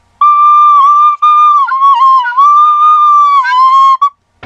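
A recorder plays a sustained, close, loud whistling note with small pitch wobbles and a brief break, holding for about four seconds before cutting off.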